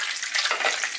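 Meat for a Turkish tepsi kebab sizzles in a pan, a steady, close frying hiss with no talk over it.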